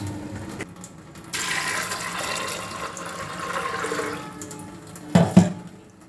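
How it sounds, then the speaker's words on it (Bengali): Water pours and swirls over motor dal peas being washed, a rushing stream that holds steady for several seconds before two louder sloshing splashes near the end. "প্রথমে যেটা কাজ সেটা হলো মটরটাকে আমি ভালো করে ধুয়ে নিয়ে সিদ্ধ দেবো প্রেসারে।"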